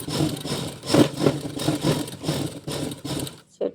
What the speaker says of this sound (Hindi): उल्टे साइड में अस्तर के फैब्रिक को सेट करके एक सिलाई लगा लेंगे